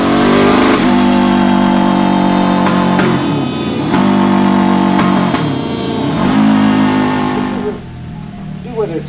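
A Suzuki TL1000R motorcycle, smoking heavily and burning oil, revs loud and close on a dyno in repeated rising pulls before the engine drops away.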